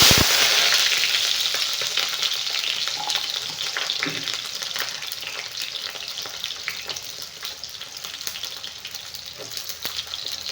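Chopped onions frying in hot oil: a loud, close, dense sizzle that starts strongest and settles slightly, with occasional crackles and faint stirring clinks throughout.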